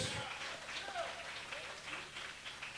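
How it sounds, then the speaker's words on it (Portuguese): Scattered clapping from a church congregation, with voices mixed in, fairly faint and continuing at an even level without a clear rhythm. "Aplaude ao Senhor, em nome de Jesus"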